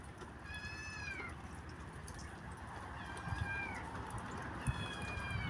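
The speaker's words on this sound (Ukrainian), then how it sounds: "Десь закрили кота." A cat shut in somewhere meows three times at intervals, faint and distant over a steady outdoor background hum.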